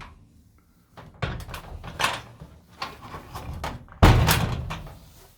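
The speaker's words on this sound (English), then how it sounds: "goes down and you open the door" A residential garage door, of a type with a small cable-released latch, is pulled open after quiet, giving a run of rattling thumps and a loud final clatter near the end, close by with no talk.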